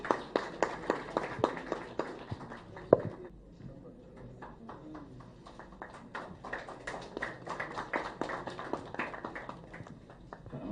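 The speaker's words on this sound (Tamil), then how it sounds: "ஒரு பெரிய கைத்தட்டலோட அவரை வெல்கம் பண்ணிடுவோம்." An audio launch crowd claps to welcome actor S.V. Shekhar onto the stage, a sustained patter of many hands that eases briefly and then swells again, with no talking over it.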